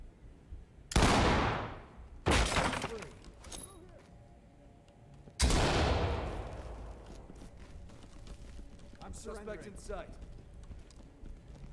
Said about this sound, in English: Breach, Shotgun, Flashbang. Blow the lock. Deploy flashbangs and clear.